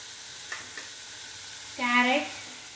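Vegetables for kurma fry in a pan with a steady hiss and sizzle, marked by a couple of light clicks early on and a short voice sounding briefly over it.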